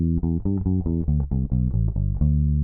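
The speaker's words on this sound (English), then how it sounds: "If I didn't play with the pull-offs," An electric bass plays a song line without pull-offs, a steady run of evenly plucked, sustained low notes in a driving rhythm, close and clear with no talking.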